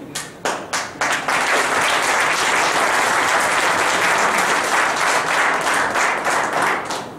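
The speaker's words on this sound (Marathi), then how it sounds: "बोलायच्या आधी टाळ्या वाजू लागले तुम्ही." Audience at a district team learning seminar bursts into applause, a few separate claps first, then dense sustained clapping from a crowd that holds steady before thinning out at the end.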